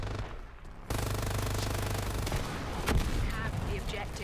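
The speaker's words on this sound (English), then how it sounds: "I'm just gonna try and sneak around behind them and just use my minigun on them." A minigun firing in the online shooter Dirty Bomb: a sudden continuous, loud rapid-fire roar that kicks in after a brief lull and sustains, with scattered game effects and pings over it.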